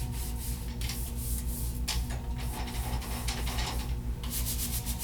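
Brush scrubbing the rollers and gears of a roller-style film processor, a close, steady rasping rub that carries on without break.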